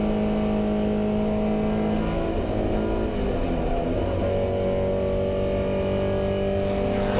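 Vintage race cars in the Fordwater Trophy at Goodwood Revival roar steadily as loud engines hold high, sustained tones that shift in pitch as cars brake and pass, with no talk.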